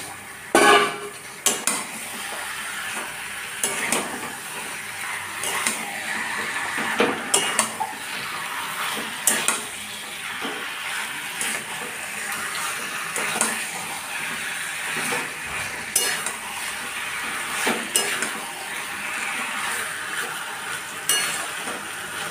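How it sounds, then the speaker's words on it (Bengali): Chicken pieces stirred and fried in a pan for a chicken curry with papaya and potato, the spatula repeatedly scraping and clinking against the pan over a low sizzle, close and uneven in rhythm, no voices. "চিকেনগুলো দিয়ে নাড়তে লাগলাম।"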